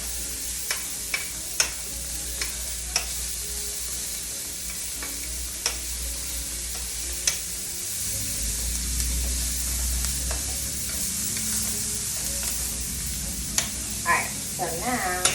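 Onions fry in butter in a pan with a bright, constant sizzle, scattered utensil clicks and scrapes on top and a low rumble partway through.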